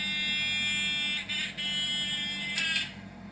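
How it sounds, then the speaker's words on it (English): Small electric buzzer sounding as two copper wires are touched together to complete the circuit, a continuous high whine with brief dips as the contact flickers, fairly faint and steady. "This thing is a little buzzer"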